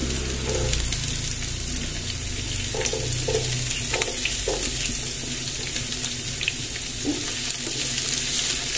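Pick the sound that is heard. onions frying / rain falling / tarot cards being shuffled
onions frying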